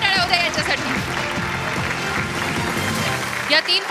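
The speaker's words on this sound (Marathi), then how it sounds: "जोरदार टाळ्या होत्या याच्यासाठी" Audience applause at a Sankrant Queen pageant in Aurangabad, a steady dense patter of many hands clapping that fills the whole stretch and swells near the end, with a voice talking over it.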